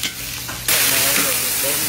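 Lomi noodles with plenty of eggs frying and being stirred in a hot pan, a steady close sizzle that jumps suddenly louder partway through, with scraping stir sounds over it.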